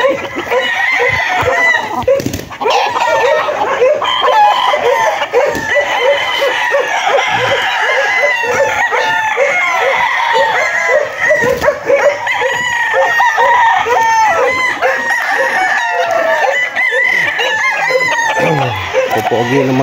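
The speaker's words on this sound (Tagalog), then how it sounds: "Manok niya mga bossing, ito po yung mga itsura ng mga manok niya" Several roosters crow repeatedly amid steady clucking from a backyard flock of chickens, the calls overlapping loud and close throughout with little pause.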